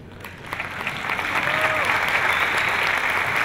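Warm audience applause at a community showband concert for a singer about to perform, steady dense clapping that swells after the first second and holds, with a faint voice or whistle over it.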